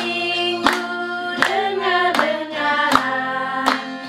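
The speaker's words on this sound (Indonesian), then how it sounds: "Sekali lagi sambil tepuk tangan ya." Hand claps land at a steady beat, about one every three quarters of a second, over singing and music.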